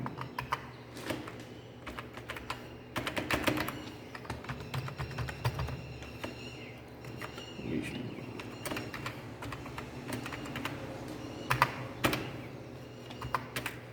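Computer keyboard typing fills the scene as an email ID is entered, a quiet, irregular run of soft key clicks that keeps going throughout with short pauses and brief bursts.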